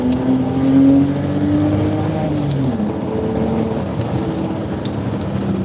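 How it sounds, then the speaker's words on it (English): A BMW 325xi straight-six engine hums and drones through its exhaust, pitch rising slightly then easing off and settling into a steady cruise, with no voices. "And it's got pretty good sounding exhaust too."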